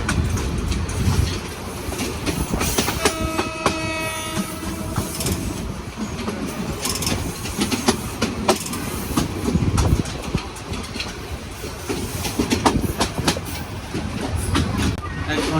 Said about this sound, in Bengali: উনত্রিশশো উনিশ নাম্বারের লোকোমোটিভ টেনে নিয়ে যাচ্ছে আমাদের